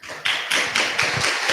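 Clapping from a conference audience for a speaker at an open technology summit, a sparse round of claps with a few close, sharp hand strikes standing out against the patter.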